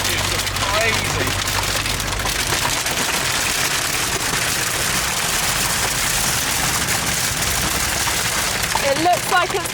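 Hail falling at high altitude in the Peruvian Andes during the wet season, a dense continuous patter and rattle on surfaces, loud and close throughout, with a low engine hum early and a voice near the end.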